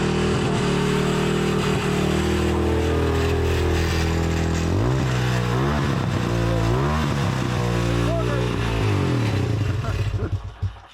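A smoky Honda ATC200X three-wheeler engine runs loud and close, idling roughly and then revving up and down in repeated bursts before cutting off at the end.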